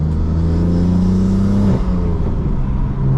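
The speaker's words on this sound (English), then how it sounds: "those intakes sound so good" A manual BMW M3's intakes roar loudly and continuously as the engine revs, the steady drone rising briefly before dropping back to a rougher, burbling tone, with no talking.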